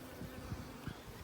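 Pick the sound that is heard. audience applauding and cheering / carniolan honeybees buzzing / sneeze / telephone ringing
carniolan honeybees buzzing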